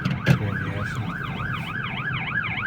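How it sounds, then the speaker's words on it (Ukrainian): An ambulance siren wails in a steady rising-and-falling cycle on a road in Kraków, heard from inside a car over low traffic rumble, with a brief knock near the start. "О, терміново треба пропустити швидку допомогу."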